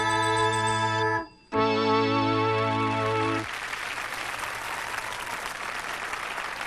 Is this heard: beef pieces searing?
no